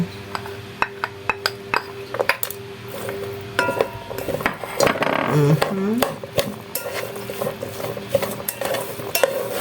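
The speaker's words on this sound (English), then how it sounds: "I will transfer it here so that I can mix it well." Cabbage roll filling is stirred in a bowl with a utensil, giving repeated clinks and scraping taps against the bowl plus a wet, squishy mixing sound, close and moderately loud, with no talk.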